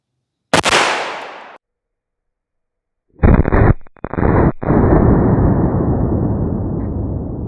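A rifle fitted with a muzzle brake fires one loud, sharp shot, then a pause; a second blast bursts out with a booming roar that keeps rumbling and sustaining for several seconds.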